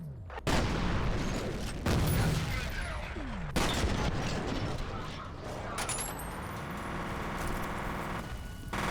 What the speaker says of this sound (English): Now we swap to the shotgun.